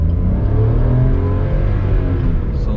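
A Maruti Suzuki Alto K10 small car accelerating hard from inside the cabin, its engine note rising steadily and loudly in one continuous pull with no speech.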